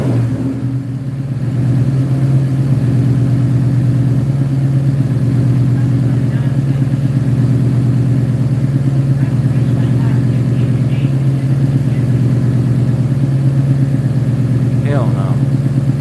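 A car engine holds a high idle after a throttle body replacement, a loud, steady drone that never settles down, with people talking faintly over it.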